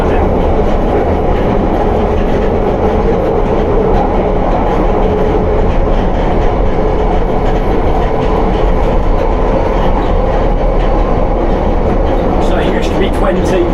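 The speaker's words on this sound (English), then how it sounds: "South Ken bends, so apologies if you get a lot of wheel noise" London Underground Piccadilly Line train taking the bends near South Kensington at low speed at night, a loud, steady rumble of wheels and carriage noise with faint high squeal toward the end.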